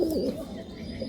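A pigeon in a loft at Mourigram, Howrah gives a short, soft, throaty coo close by, with faint background hiss.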